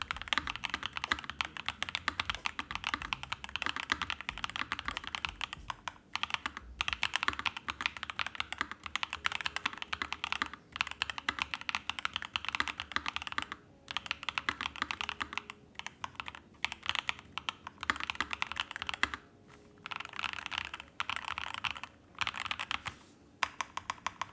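Rapid, steady clacking of keys typed on a TMICE X mechanical keyboard with rattle-free stabilizers, recorded up close with no talk, with brief pauses between bursts.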